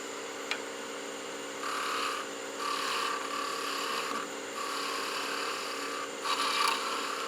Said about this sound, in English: Couple planing cuts here just to reduce the stock on this side.